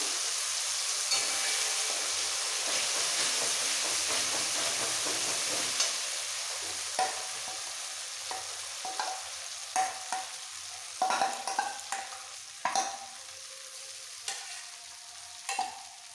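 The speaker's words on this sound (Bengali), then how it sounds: "এইবার দিয়ে দিচ্ছি যে মশলাটা রেডি করেছিলাম কাজু কিশমিশ টমেটো আদা সব মশলাটা এই সময় দিয়ে দিতে হবে" A paste of cashew, raisin, tomato and ginger added to a hot pan for shahi paneer, a bright hiss that settles as spoon stirring brings sharp scrapes and clacks in the latter half.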